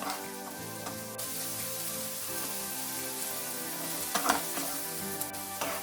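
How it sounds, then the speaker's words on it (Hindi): Vegetables sizzling in a pan over high flame for Indo-Chinese veg fried rice, a steady dense crackle with a few sharper stirring clatters near the end, no talk. "इसको भी 2 से 3 मिनट के लिए हाई फ्लेम में फ्राई करेंगे।"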